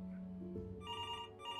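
Telephone ringing in the video game Before Your Eyes, a steady electronic ring with repeating bursts over a low tonal music bed, loud and close with no talk.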